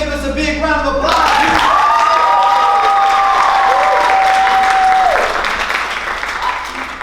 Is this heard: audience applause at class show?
yes